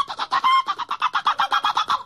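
Rapid, rhythmic chicken clucking, about twenty short pulses in two seconds, loud and close with no talk over it.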